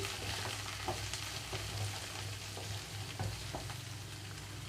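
Pieces of bottle gourd fry in a pan, giving a steady sizzle with faint scraping stirs, close and moderately quiet throughout.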